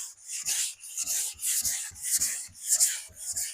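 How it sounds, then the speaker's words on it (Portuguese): A sanding block rubbed by hand over polyurethane primer along a curved panel, making rhythmic back-and-forth abrasive strokes, about two per second, close and clear with no talking. "eu venho novamente com o lixamento acompanhando a curva"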